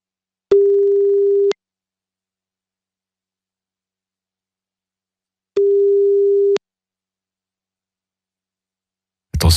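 French telephone ringback tone during a phone call: two steady one-second single-pitch beeps about five seconds apart in otherwise silent air, with a sharp noise at the very end.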